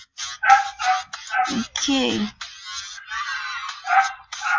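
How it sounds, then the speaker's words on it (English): A dog barks repeatedly in short, close bursts with yips mixed in, while a person speaks briefly over it. "Oh, my dog's barking. My dog is barking."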